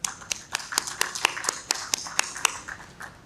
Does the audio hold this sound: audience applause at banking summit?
yes